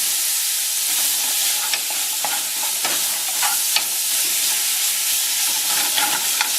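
Noodle stir-fry for bami goreng sizzling and hissing loudly in a hot pan, with steady frying crackle and occasional scrapes and stirring knocks throughout.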